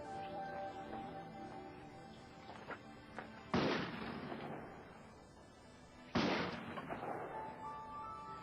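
Two loud, sharp shotgun blasts fired a few seconds apart outdoors at targets, each with a sudden crack and a decaying echo, with faint handling noises between.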